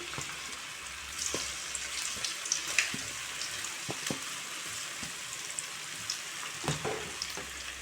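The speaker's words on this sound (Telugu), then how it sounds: "ఇందులోనే మనం చేసి పెట్టుకున్న బాల్స్ వేసుకుందాం. ఇవి సిమ్లో మాత్రమే ఫ్రై చేసుకోవాలి." Cabbage egg manchurian balls fry gently in hot oil over a low flame, a soft steady sizzle with occasional small pops and light clinks nearby.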